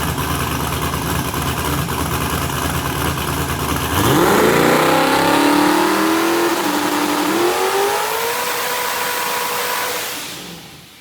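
New LS V8 engine on a hub dyno, holding a loud steady drone before revving hard and climbing in pitch toward 10,000 RPM, then easing off, close and dominant.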